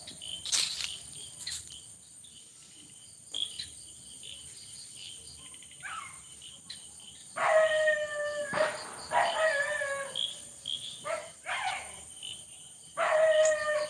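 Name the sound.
dogs howling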